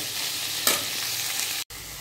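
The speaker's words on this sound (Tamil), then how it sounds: "இதை நல்லா வதக்கி எடுத்துக்கலாம்." Steady sizzling and frying of vegetables sautéing in a pan for veg salna, with a brief stirring scrape partway through and a short break near the end.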